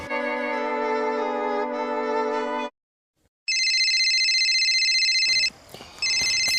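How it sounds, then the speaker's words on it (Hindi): A mobile phone ringtone plays loudly indoors, a sustained tonal melody that stops, pauses briefly, then resumes in a higher repeating pattern with faint background noise. "फोन हो रहा है किसका?"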